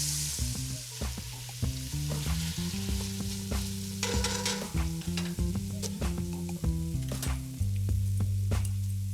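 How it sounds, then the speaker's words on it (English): Browned beef sizzles steadily in a pot while a spoon stirs and scrapes through it, a continuous close frying hiss broken by clanking stirs, no talking. "once all your meat is nice and brown, you can just start piling the flavors into the pot."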